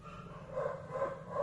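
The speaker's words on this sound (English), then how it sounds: "Puppy." A puppy makes soft panting and breathing sounds with faint whimpers, close by, in short repeated bursts over a quiet background.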